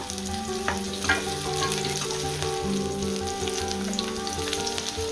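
Cashews and Kashmiri chili frying with onions in a pan for paneer butter masala, a close, continuous sizzle with occasional stirring scrapes, behind background music.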